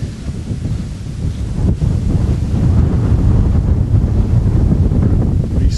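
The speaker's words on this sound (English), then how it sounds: "Getting a lot of wind here." Strong wind from a tornado storm near Belden, Nebraska roars steadily and loudly into the microphone for the whole stretch, a dense low buffeting rumble with no voices.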